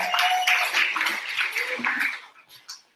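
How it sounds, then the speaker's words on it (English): A crowd of students at an innovation competition opening claps together in a dense burst that thins out and fades after about two seconds, leaving a few stray claps and a voice. "Please give yourselves a round of applause for coming here."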